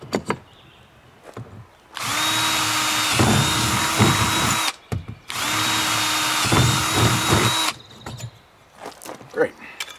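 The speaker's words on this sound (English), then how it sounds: "So there's our four holes drilled." Two sustained runs of a power drill boring into metal on a dump cart, separated by a short pause, with some handling clatter and brief talk around them.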